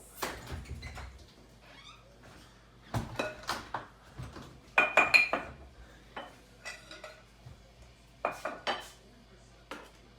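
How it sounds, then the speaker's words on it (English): A utensil knocks and clinks against a bowl in irregular bursts while cookie dough is mixed in a home kitchen, with quiet pauses between the sharp clatters. "Mix it from the bottom to the top, just to make sure we get everything nice and thoroughly mixed."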